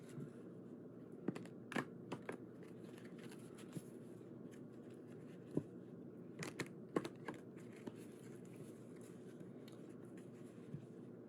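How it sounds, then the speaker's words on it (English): Soft, continuous shuffling of cards with scattered light taps and clicks, close and quiet, with no voices. "So I'm going to shuffle this."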